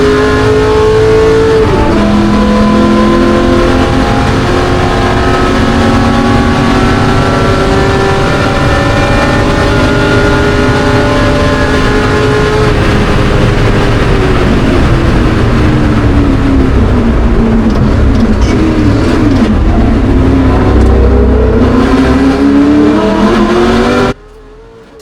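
A Ford GT40 classic race car engine at the Le Mans Classic roars loudly and continuously, its pitch sweeping up and down through gear changes, then cuts off abruptly at the end.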